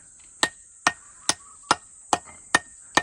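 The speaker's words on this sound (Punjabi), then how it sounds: "ਲੱਗਾ ਪਿਆ ਮਿਸਤਰੀ ਪੂਰਾ ਠੱਕ ਠੱਕ ਕਰਨ" A mason strikes a brick with a hammer, seven sharp, evenly spaced knocks roughly every half second over a steady high hiss, close and clear with no talk.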